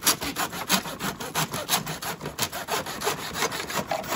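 A hacksaw cuts through bamboo pieces with brisk, even back-and-forth strokes, close and clear, repeating steadily throughout without pause.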